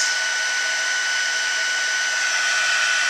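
A heat embossing tool blows hot air with a steady, even, close whooshing hiss that holds unchanged throughout. No one talks.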